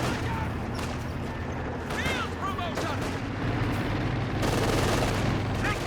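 Bursts of machine gun fire from a Command Panther tank in Company of Heroes 2, rattling continuously amid loud battle noise and explosions, with chirpy tones scattered over the din.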